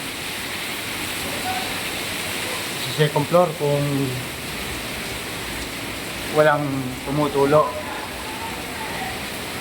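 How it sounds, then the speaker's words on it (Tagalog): Heavy rain pours steadily onto a roof in a broad, even roar, with someone talking over it in two short bursts. "Napakalakas na ulan."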